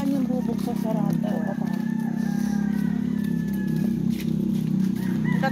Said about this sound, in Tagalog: Tatapang naman ng mga manok dyan.